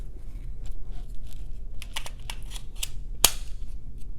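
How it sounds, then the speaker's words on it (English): A Glock 43 magazine is pushed into the grip of a Mossberg MC1sc pistol, with faint handling clicks and then one sharp, close metallic snap as it seats near the end. "So the mag from a Glock 43 fits perfectly fine in the Mossberg,"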